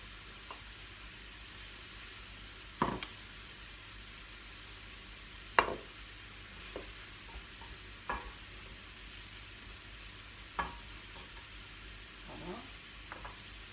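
A Wahrani-style green bean tajine with spices sizzles and simmers in a pan as a soft, steady frying hiss, broken by a few light utensil clinks and stirring scrapes close by.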